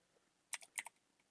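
A short burst of typing on a computer keyboard: four or five crisp key clicks in quick succession, close and quiet against a near-silent background.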